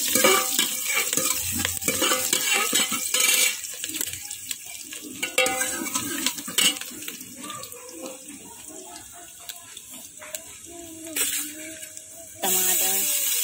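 Potato and eggplant frying with onion in a pan, stirred briskly as green chilies go in, a close crackling sizzle broken by clattering spoon scrapes and knocks, with someone talking at times over it.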